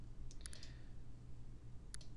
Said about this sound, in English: You can type right here and just separate them with a carriage return.